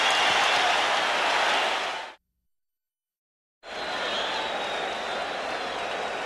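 A dense, roaring arena crowd cheers and applauds during Game 4 of the 1987 NBA Finals between the Lakers and Celtics, loud and sustained, broken by a full dropout of about a second and a half before resuming.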